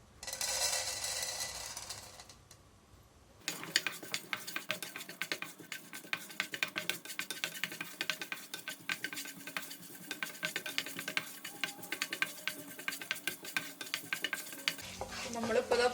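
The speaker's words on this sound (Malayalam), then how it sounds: "നമ്മൾ തേങ്ങാക്കൊത്ത് ഫ്രൈ ചെയ്തെടുത്ത അതേ നെയ്യിലേക്ക് തന്നെ പൊട്ടുകടല ഇട്ട് കൊടുക്കാം." Roasted gram (pottukadala) frying in ghee left from frying coconut slices, with steady sizzling and repeated stirring scrapes of a spoon in the pan, close and continuous after a brief quieter start.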